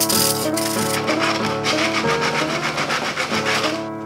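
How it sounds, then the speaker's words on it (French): Sanding a wooden table leg for a bean-shaped coffee table, a close, loud, steady rasping scrape with rhythmic back-and-forth strokes and no talk. "je vais devoir bien poncer pour que ce soit bien droit"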